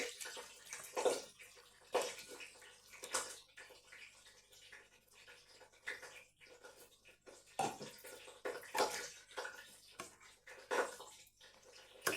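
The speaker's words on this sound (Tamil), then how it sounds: "நான் எடுத்து வச்சிருக்கிற பாலை விட போகிறேன்" Milk poured into a simmering Sri Lankan sudai fish sothi curry, giving soft liquid splashing and gurgling in repeated bursts, close and fairly quiet with no talk.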